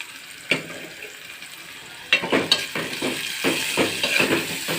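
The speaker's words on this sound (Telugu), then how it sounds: "ఇది ఆయిల్లో బాగా ఫ్రై చేసుకోవాలి." Bommidi fish frying in oil with ginger and turmeric: quiet bubbling at first, then a sudden louder sizzle with stirring scrapes and crackles that continue unevenly to the end.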